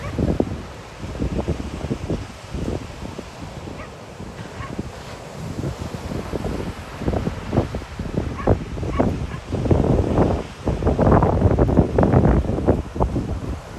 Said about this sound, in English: Wind's really starting to pick up.